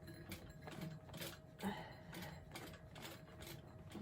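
A hand-cranked sewing machine stitches slowly through a thick bag's layers of fabric, making faint, quiet rhythmic clicks and thumps with each turn of the crank.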